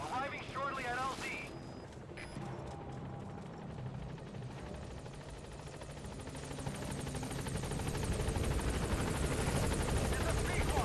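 A Pequod helicopter in Metal Gear Solid V approaches a landing zone, its steady rotor roar building and growing louder over about ten seconds, with radio chatter early on.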